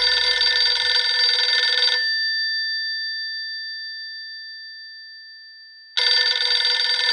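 A payphone rings with a loud, steady electronic tone that runs for about two seconds, falls silent for several seconds, then starts again.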